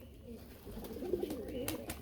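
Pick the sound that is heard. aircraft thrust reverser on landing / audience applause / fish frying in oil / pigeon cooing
pigeon cooing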